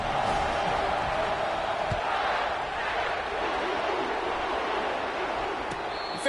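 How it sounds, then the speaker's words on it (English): Stadium crowd at an NCAA football game roaring steadily after a touchdown kickoff, a dense, continuous wash of cheering and shouting that stays loud and even throughout, with no clear voices standing out. "This crowd bringing the energy and noise early."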